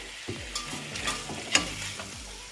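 Spoon stirring Lebanese braised beef and green bean stew in a pot, a soft scraping and sizzling with a few sharper clinks, steady and close, no talk.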